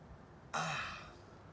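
A single yawn from a person seated with fingers interlaced behind the head during a short meditation, rising in a sudden breathy burst, then trailing off into a soft sigh; close and fairly quiet.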